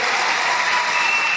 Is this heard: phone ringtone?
no